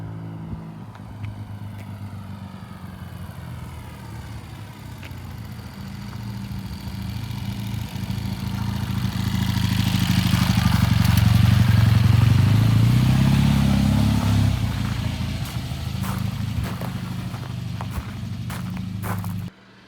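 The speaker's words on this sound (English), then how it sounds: "Kevin's going to do a test ride on this 750 Crown." A Triumph 750cc motorcycle on a test ride approaches from a distance, its engine swelling to a loud peak close by around the middle before fading a little as it idles or rolls on, with faint clatter and no speech.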